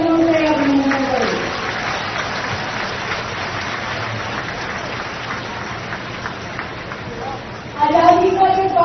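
Crowd applause for soldiers at an outdoor Independence Day event in the rain, a dense continuous patter of clapping between a woman's speech at the start and talk resuming at the end.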